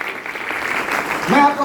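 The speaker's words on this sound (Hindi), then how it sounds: "एक बार जोरदार तालियां होनी चाहिए" An audience applauds at a motivational talk, clapping building steadily and growing louder toward the end as a voice cuts in briefly.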